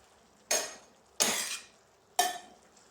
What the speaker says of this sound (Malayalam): ഇത് നന്നായിട്ട് ഒന്ന് ഇളക്കി യോജിപ്പിച്ച് കൊടുക്കണേ.